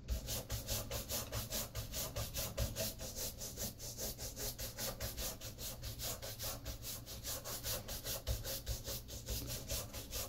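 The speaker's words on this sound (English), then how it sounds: "you can buff off any excess with a nice chamois cloth or horsehair brush" Steady back-and-forth brushing of a pebble grain calfskin shoe with a horsehair brush, a close, even rhythmic scrubbing that runs without pause and with no talk.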